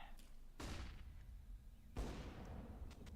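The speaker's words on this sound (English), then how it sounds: "Throwing flashbang." Two sharp bursts from a flashbang grenade in Counter-Strike, one near the half-second mark and another about a second and a half later, each a loud crack fading into a hiss over low background noise.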